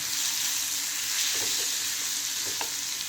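Curry leaves and ginger frying in hot oil for a squid thoran, a steady close sizzle with a few soft scrapes of a spoon stirring through the pan, no voices.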